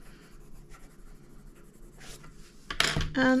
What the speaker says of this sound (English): And I will erase that one